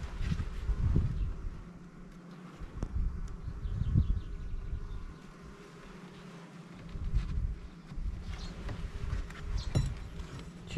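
Honey bees buzz around an open hive during an inspection outdoors on a quiet day, a steady low droning hum that swells and eases, with occasional faint rustles and knocks of handling nearby.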